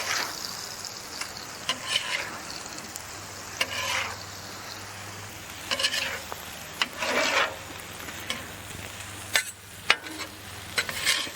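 Beef stir fry with ginger and garlic sizzles on a griddle, a steady crackling hiss with bursts of scraping and stirring by a spatula, alone without talk.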